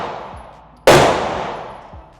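One sharp, loud gunshot from an MP5 clone fires near the microphone and leaves a long decaying echo across an open range, with a fainter pop or two in the background.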